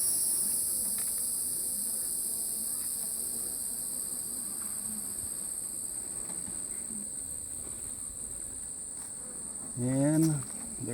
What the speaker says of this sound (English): Lots of bees in there.